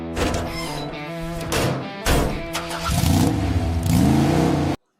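A 1977 Chevrolet El Camino, sat unused for ten years, cranks and starts inside a small barn, then revs in uneven surges before cutting off abruptly; loud and close.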